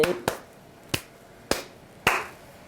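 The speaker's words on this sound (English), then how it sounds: "Give yourself a round of applause." A few scattered claps, roughly four sharp separate hits spaced about half a second apart, close and clear with no voices.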